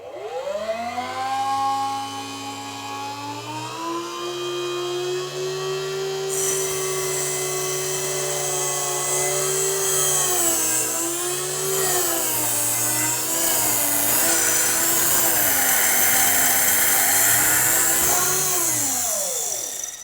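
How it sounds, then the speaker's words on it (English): A Jump Ring Maker 2 handpiece motor runs at full speed, cutting through a wire coil with a steady high whine and grinding hiss that bends slightly in pitch, loud and continuous throughout. "Then we run at full speed and gently pull the handle towards you, gently cutting through the coil."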